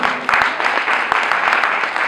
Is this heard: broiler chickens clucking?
no